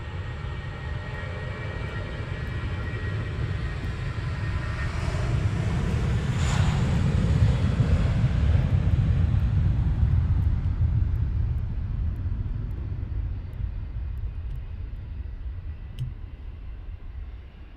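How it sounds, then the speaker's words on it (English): A Wizz Air airliner taxiing at Luton Airport, a loud continuous low jet-engine roar that swells toward the middle and slowly fades, with a brief rising whine; no talking. "another Wizzair taxiing on."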